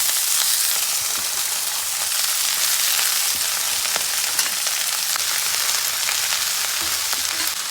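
Malabar spinach leaves fry in a pan for an Andhra-style chutney, a loud, steady, dense sizzle with crackles throughout and no talking.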